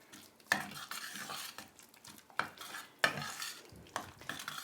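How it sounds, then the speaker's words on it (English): Raw eggs being mixed into pastry crust dough in a bowl, close spoon or utensil scraping and sticky stirring with several sharp clinks against the bowl, fairly quiet with no talk. "Add the eggs one at a time. And mix it to combine it entirely before you add the next egg."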